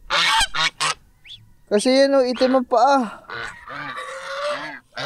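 A young goose, of a kind with black feet, gives several loud, close honks in short bursts, alternating with someone talking nearby.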